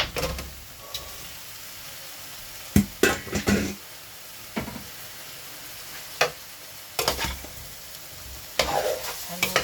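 Pork being stirred in a pot for sinigang na baboy, with irregular clanks and scrapes of the spoon over a steady sizzle, several sharper knocks spaced through, no talking.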